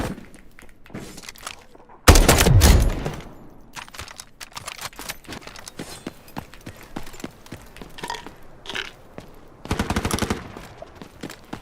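MK-47 rifle fire in the shooter game Delta Force, a loud sharp burst of rapid shots followed by quieter scattered game noises and a second shorter burst, heard up close.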